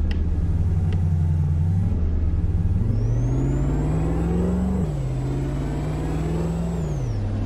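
A truck rumbles along a highway in Euro Truck Simulator 2, a loud steady low drone whose engine pitch rises and falls through gear changes, joined midway by a long high whine from passing traffic.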